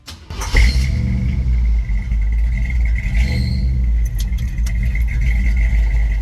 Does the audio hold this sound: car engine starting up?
yes